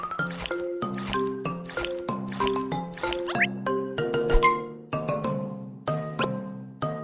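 Eggs stirred in the Baby Panda's Kitchen Party cooking video game, a string of bright cartoon chimes and squishy pitched blips repeating in quick succession, loud and close, with no speech.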